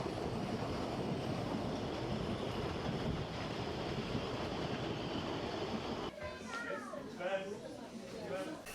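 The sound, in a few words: Radebeul-Radeburg Railway narrow-gauge train running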